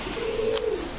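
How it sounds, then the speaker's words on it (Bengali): A kokka pigeon gives a single clear, fairly close coo lasting most of a second, against a quiet background with no speech. "দর্শক যারা ডাক শুনতে পছন্দ করেন ককা কবুতরের এই পেয়ারটা নিতে পারেন"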